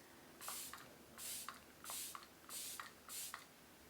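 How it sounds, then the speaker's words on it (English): Makeup by Mario setting spray mists five times in a steady rhythm, each a short airy hiss with a faint pump click, close to the microphone and fairly quiet. "let's see how the spray is. Wow, I love the mist."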